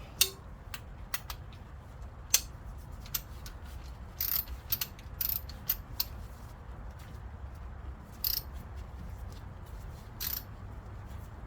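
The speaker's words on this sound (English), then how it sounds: "Put my little breaker bar on there. I'm gonna break it loose." Faint, sporadic metallic clicks and ratcheting snaps come from a breaker bar working on a car suspension bolt during spindle removal, with quiet gaps between them and no talking.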